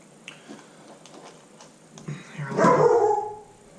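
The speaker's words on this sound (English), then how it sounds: "Sorry, there's my dog." A pet dog barks in a quick burst nearby, loud and close, after a stretch of quiet room noise.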